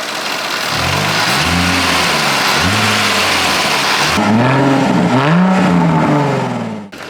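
Supercharged Jaguar F-Type convertible engine revs repeatedly, loud and close, rising and falling in several sharp bursts over a steady idle.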